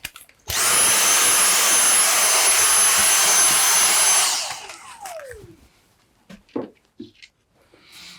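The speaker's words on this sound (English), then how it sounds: "Let's just give the back of this a vacuum off." A Makita DVC260 cordless vacuum cleaner on a repair bench runs with a loud, steady high-pitched whine for about four seconds, then spins down and stops, followed by a few light clicks and handling noises.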